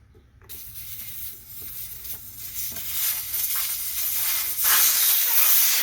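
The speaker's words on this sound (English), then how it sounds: "first thing you got to do is take the air out. I got a valve core remover here." Air hisses steadily out of a Ryobi riding mower tire valve with the core removed, a close, rushing hiss that grows louder and brighter over several seconds.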